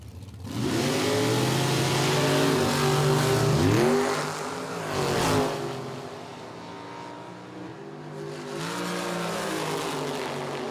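Drag racing cars, including a 598 cubic inch Chevrolet and an Oldsmobile, launch on a track at a quick rod qualifying run. Engines roar and rev loudly with rising pitch sweeps, then ease back and build again, and no one speaks.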